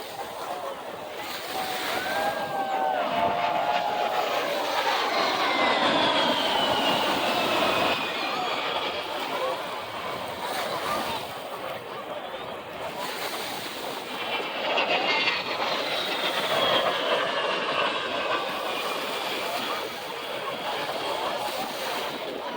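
Loud A-10 military jets roaring overhead at an air show off South Beach, Miami, a sustained broadband rumble with swelling whines that rise and fall as planes pass, continuous for the whole stretch.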